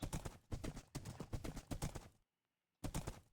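Horse hoofbeats in the video game Minecraft, quick clip-clop thuds in rhythmic bursts that pause briefly before resuming.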